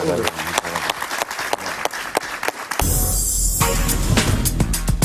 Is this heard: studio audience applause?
yes